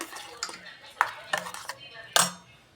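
Lentil filling scraped out of a grinder into a vessel while making holige, a series of sharp metallic scrapes and clinks of spoon on steel, close and fairly loud, in irregular bursts with no talking.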